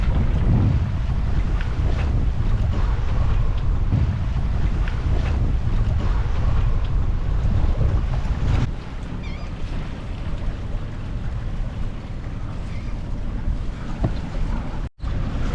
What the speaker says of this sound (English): Still sailing.